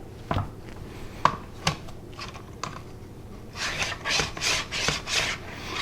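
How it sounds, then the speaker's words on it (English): A knife thinly slices red onion on a cutting board, close by: a few sharp separate cuts, then a quicker run of rhythmic rasping strokes. No one speaks. "And a little bit of red onion. And we're going to slice that very,"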